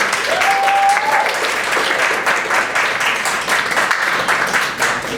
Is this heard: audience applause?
yes